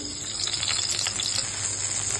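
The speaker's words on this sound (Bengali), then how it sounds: "এই বেগুনগুলো এবার ভেজে নেব।" Eggplant slices rubbed with salt and turmeric fry in hot oil, producing a loud, continuous close-up sizzle and crackle with no one speaking.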